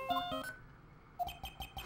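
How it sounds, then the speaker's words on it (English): A Steel Samurai theme ringtone chimes from a phone in the Phoenix Wright video game, a short, bright electronic melody in a few quick notes that breaks off and then resumes. "Mr. Nick, your phone! Hey, that's the Steel Samurai singing, right?"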